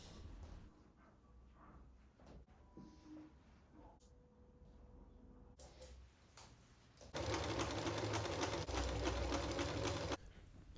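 A sewing machine joins fabric pieces of a replica 1606 British flag; quiet handling and brief clicks give way to a loud, steady run of close needle stitching lasting a few seconds before stopping.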